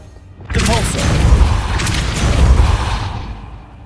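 Magical spell effects from the Hogwarts Legacy video game burst in loudly with a rumbling boom and swirling whooshes, sustained for several seconds before fading.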